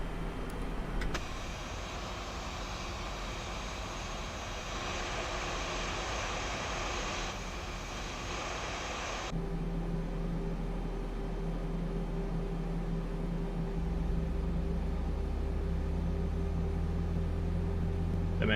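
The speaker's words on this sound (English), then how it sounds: "Them engine noises are nice." Steady drone of FlightFactor A320 airliner engines in X-Plane 12, a continuous whine and hum that shifts pitch partway through and keeps building slightly in a low rumble, with no voices.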